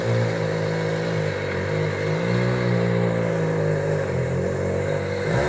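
A tire mounting machine turns steadily while mounting a large truck tire, a loud continuous mechanical whir and hum that stays even throughout with no speech.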